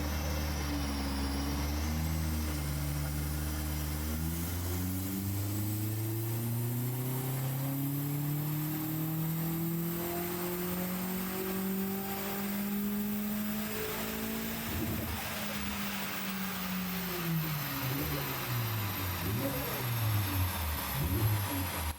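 A forged Vauxhall Astra VXR engine revs on a dyno through a long power run, its rising exhaust and engine note climbing steadily for about fifteen seconds before dropping off and revving again, loud and sustained.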